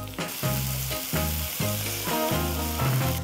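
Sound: chopped onions sautéing in hot oil

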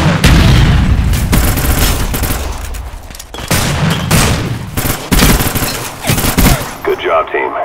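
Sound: grenade explosion and gunfire in a shooter video game

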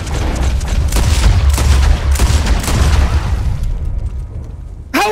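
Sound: gunshots in the video game Red Dead Redemption 2

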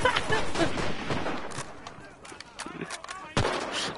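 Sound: gunfire in the video game Enlisted

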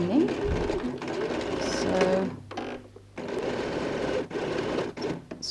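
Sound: sewing machine stitching bag lining

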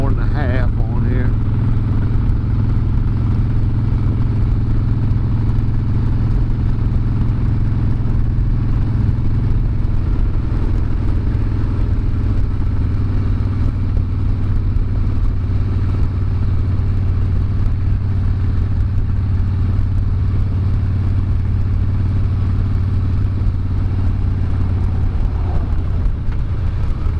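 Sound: Harley-Davidson motorcycle engine running

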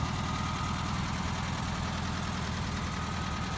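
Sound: Volkswagen split window bus 1600 engine idling

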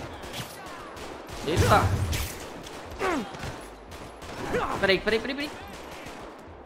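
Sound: gunfire in video game GTA 5

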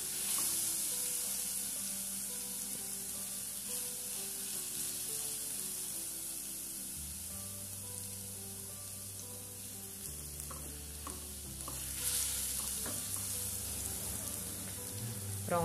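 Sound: frying and browning in a pan for beans

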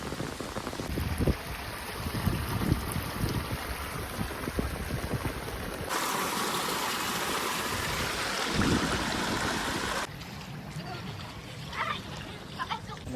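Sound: heavy rain and running water

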